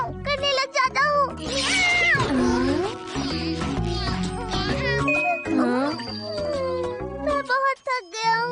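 A cartoon robot cat voice imitates a cat, producing a string of high, wavering meows and squeals with jingly tinkling sounds mixed in, loud and close.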